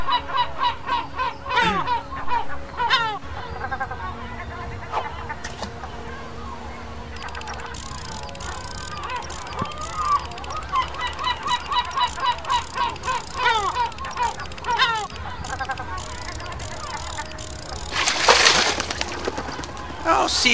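Seagulls cry repeatedly in a seaside scene of the pirate video game Captain Bones, loud, overlapping calls continuing steadily over ambient game sound with a brief burst of noise near the end.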